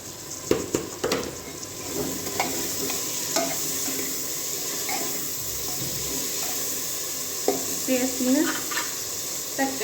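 Masala roasts in a pan with a steady oily sizzle, while a spoon stirs and scrapes through it in intermittent bursts, all close and continuous.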